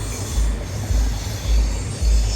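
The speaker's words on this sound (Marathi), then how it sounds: "आणि ट्रेन चालली." A train passing near a level crossing in the Kasara ghat, with heavy rhythmic low thumps of wheels over rail joints repeating about every half second, loud and close.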